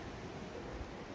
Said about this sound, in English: The waves hitting on the cliffs.